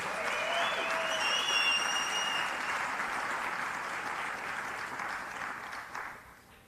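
Another round of applause for a presenter at a winning-mindset workshop and expo, a dense, continuous crowd clapping that holds steady, with faint cheers and whistles early on, then tapers off at the end.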